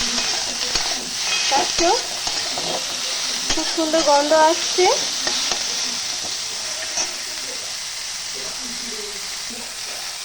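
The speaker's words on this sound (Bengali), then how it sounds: "ভালো করে ভাজা হয়ে গেছে কলাইয়ের বড়ি, আলু, পেঁয়াজ, টমেটো, লবণ দিয়ে একসাথে ভালো করে ভেজে নিলাম" Lentil dumplings (kalai bori), potato, onion and tomato with salt frying and being stirred in a pan for berikolai bori alu posto, a steady close sizzle with scraping stir strokes, while a voice speaks briefly over it.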